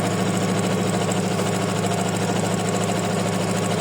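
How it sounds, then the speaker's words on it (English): An embroidery machine stitches a decorative stitch, white on white, with a steady rapid mechanical whir and rhythmic needle chatter that stays close and constant throughout. "And now we stitch the decorative stitch."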